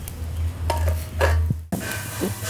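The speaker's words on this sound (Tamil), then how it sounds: "கொஞ்சம் நேரம் வந்து துழவி விடணும்" Pearl millet porridge (kambu koozh) being stirred in a cooking pot, with a steady low simmering hum under scattered scraping and knocking of a spoon against the pot, including a sharper knock near the end.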